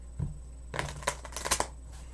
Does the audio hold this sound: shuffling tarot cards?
yes